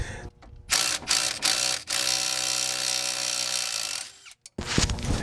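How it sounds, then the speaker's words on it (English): A wrench working a rusty coilover bolt on a Mitsubishi Galant or Eclipse, sharp metallic clicks and grinding creaks, then a sustained ringing rasp, loud and close with no talking. "the tip for taking off rusty bolts is to just tighten them slightly and then loosen them and kind of go back and forth to break loose any rust"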